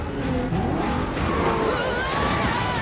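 A car chase from the 2018 film Fifty Shades Freed: loud, continuous engine roar with revving and squealing tires, dense and unbroken across the clip, with tonal movie soundtrack layered over the vehicles.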